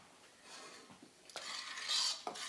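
A spoon scraping and stirring lamb stew in a pot for shepherd's pie, with faint soft clinks and a low sizzle, quiet and close, no talking.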